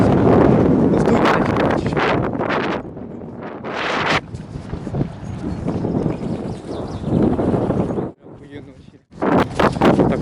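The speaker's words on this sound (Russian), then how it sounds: "Ветер такой сильный" Strong wind buffets the microphone in heavy, roaring gusts, briefly dropping off before surging again, with a voice speaking through it.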